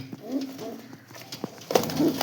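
Pigeons coo softly nearby, a few low throaty calls with rustling and small knocks between them.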